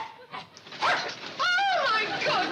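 A dog yips and whimpers close by with short rising cries and a brief bark amid a sitcom scene, the sounds overlapping with faint voices.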